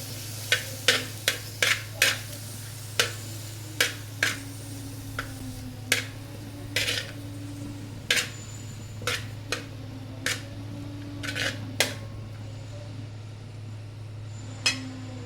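Chopped tomatoes sautéing in a pan for biryani masala, with a steady low hum under regular sharp taps and scrapes of a spoon stirring the pan.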